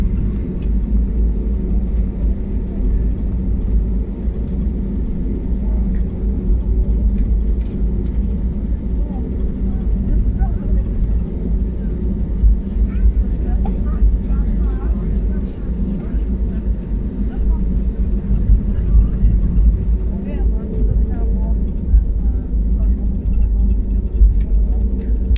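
Steady low rumble of a passenger airliner's engines heard from inside the cabin while taxiing towards the runway after leaving Tenerife, a continuous droning hum with faint cabin noises and some talk over it.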